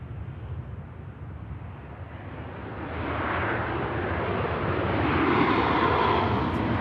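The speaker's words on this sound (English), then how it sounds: "Here's the Prague inbound of Ryanair." A Ryanair airliner arriving from Prague at Manchester Airport gives a broad, steady jet roar that swells gradually as it draws nearer, heard outdoors from a distance with no talking.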